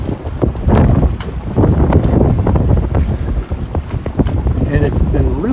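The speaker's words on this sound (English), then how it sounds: "And it's been really windy here." Strong east wind gusting over Round Lake at Charlevoix, near Lake Michigan, where boats are coming in; a loud, continuous roar buffets the microphone throughout, rising and falling in surges.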